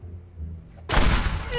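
A vacuum tube bursts during an electronics teardown, giving a sudden loud broadband pop that cuts in after a quiet lead-in and rings on as a dense crackling burst.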